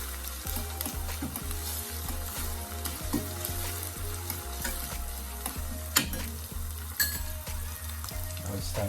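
A seasoning mixture with thyme and dry parsley sizzling in a pan as it is stirred, steady frying crackle with repeated scraping strokes and a couple of sharp knocks near the end.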